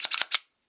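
Magazine seated into a Kahr P380 pistol, a quick cluster of four sharp metallic clicks close up, the last one firmest, then silence.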